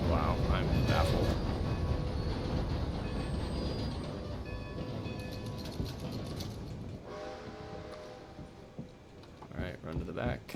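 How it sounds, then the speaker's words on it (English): A steam train in Red Dead Redemption 2 rumbles and clatters steadily along the tracks, with mechanical rattling and squeals over a constant low roar, while someone talks over it throughout. "I'm curious to see if that train got far enough away that this is a different train"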